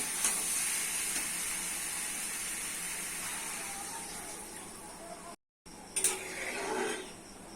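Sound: water added to sizzling ash gourd, potato and shrimp curry

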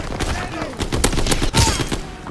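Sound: AS-44 rifle gunfire in video game Call of Duty WW2

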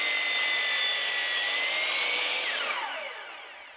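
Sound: mitre saw cutting a slot in wood

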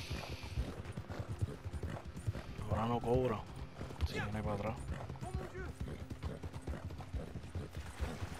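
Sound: horse trotting hooves in video game Red Dead Redemption 2

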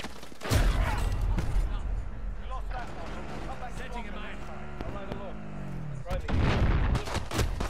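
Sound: gunfire in a video game

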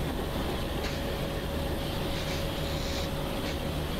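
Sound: locomotive brake pipe noise in MSTS Open Rails train simulator video game

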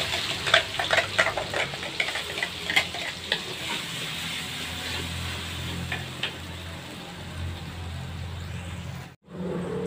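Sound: sautéing ground garlic, shallot and red chili paste in oil

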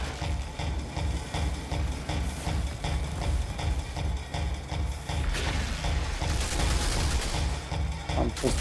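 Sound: gunfire from shooting in the Outriders video game

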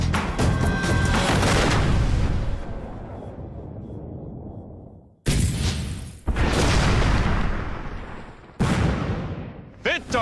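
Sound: M1 Garand rifle gunshots at targets

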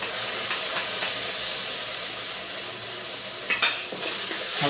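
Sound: stirring sweet corn chevdo mixture with lemon juice in pan

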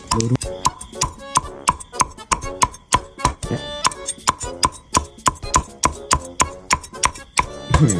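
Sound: chopping crispy pork belly

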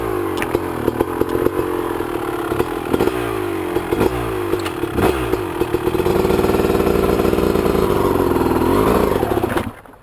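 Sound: motorcycle engine revving on a muddy trail

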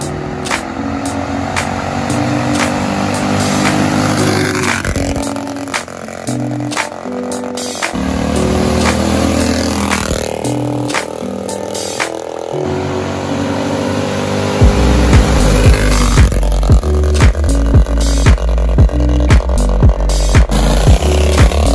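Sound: Bandolero race car driving on the street

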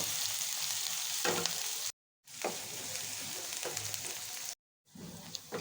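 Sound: onions frying and being stirred in a pan

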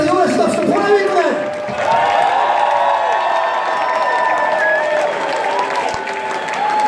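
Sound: concert audience applause and cheering

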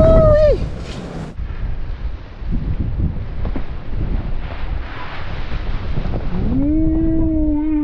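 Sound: strong storm wind in Norway

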